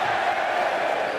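Darts crowd at a Thursday night match roaring in a steady, loud, continuous wall of cheering and shouting, with no pause across the short moment.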